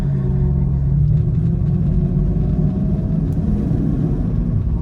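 A BMW E31 850i runs on the road with its driver back on the throttle, giving a steady, loud low engine rumble and drone throughout.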